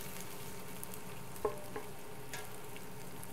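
Asparagus and vegetables sizzling in a frying pan, a steady crackling fry with a brief clatter of stirring partway through.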